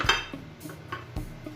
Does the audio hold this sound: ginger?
yes